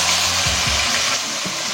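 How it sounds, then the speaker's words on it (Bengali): Chicken marinated in vinegar, salt and pepper frying in a pan, giving a steady close sizzle with a few scraping stirs, no talk. "সেটাকে আমি ভালো করে ভেজে নিচ্ছি।"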